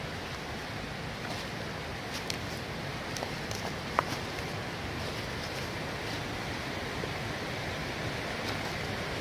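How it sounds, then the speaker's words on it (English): A full-flowing river rushing through Collins Gulf, a steady broad roar of running water close by, with a couple of faint brief clicks over the constant wash. "It's a full-on river."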